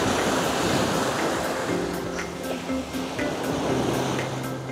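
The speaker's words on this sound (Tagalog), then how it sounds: "solid yung alon" Ocean surf crashes and washes continuously at a beach with a strong current, a broad roaring wash with wind buffeting the microphone and faint engine hum underneath.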